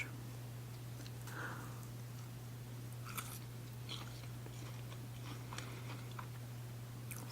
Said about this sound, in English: So you can actually hear a little bit of a crunch from this.